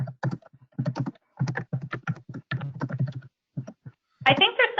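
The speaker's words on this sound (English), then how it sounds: "I think there's somebody typing." Keyboard typing picked up over an open phone line during a council meeting call, a steady run of close, clustered key clicks in quick bursts with brief pauses, ending in a louder, denser flurry.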